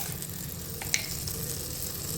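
Chana dal and urad dal tempering in hot oil for a ginger pickle: a steady close sizzle of frying with one small sharp pop midway.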